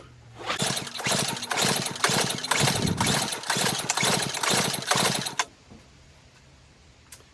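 A Tecumseh snowblower engine is pull-started repeatedly during a compression test, about ten rapid rhythmic cranking bursts close to the mic, then stopping into near quiet.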